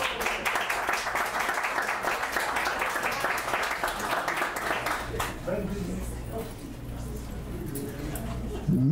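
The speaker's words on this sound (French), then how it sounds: "Vous avez le droit d'applaudir, hein, mesdames, messieurs." Audience applause during a social development press conference in Maria-Chapdelaine, a dense patter of clapping for about five seconds that fades out, then a steady low hum with indistinct speech underneath.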